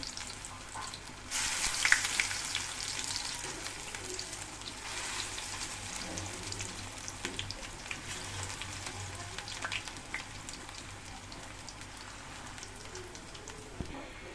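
Water lily flower fritters fry in hot oil with a steady, soft sizzle that crackles a little more at the start, then settles into an even hiss, with no voices.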